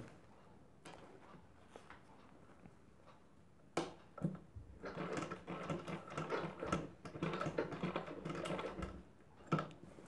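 A sewing machine stitching a zipper into a blouse, faint at first, then a rapid mechanical clatter of stitching that runs steadily for several seconds, close and moderately loud.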